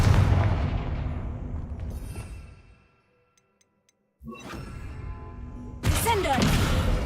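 A Confringo blasting spell explodes in Hogwarts Legacy with a loud, booming burst that rumbles and fades over a few seconds. Brief silence follows, then more game noise and another sharp blast.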